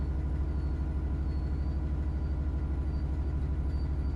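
Steady low rumble and hum of a train running in the video game Train Sim World 5, a continuous drone with faint rhythmic pulsing and no other sounds on top.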